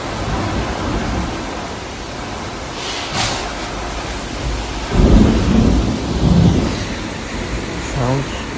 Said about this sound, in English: That's not beautiful weather. It's raining.